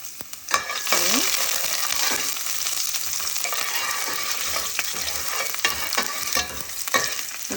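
Garlic, ginger and chili frying in a pan, with loud continuous sizzling close by and repeated spatula scrapes and clacks throughout, no voices.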